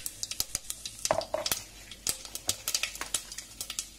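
Mustard seeds, cumin and urad dal tempering in hot oil for a Rayalaseema-style arbi curry, giving a close, steady crackle of sharp pops and spits over a soft sizzle, with no talking.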